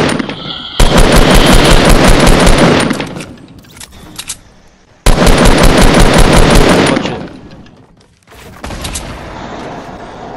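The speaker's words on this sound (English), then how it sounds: "I'll shoot my grenade launcher in there." Gunfire and grenade launcher blasts in the video game Fortnite, coming as two dense, loud bursts of rapid automatic fire with sharp explosive crackle, each lasting a few seconds and separated by brief pauses and quieter clatter.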